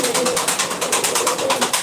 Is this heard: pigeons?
yes